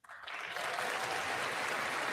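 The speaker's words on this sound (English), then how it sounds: "they clap at anything he's saying" A chamber full of people bursts into applause during a presidential State of the Union address, swelling quickly from silence into a dense, sustained roar of clapping heard alone.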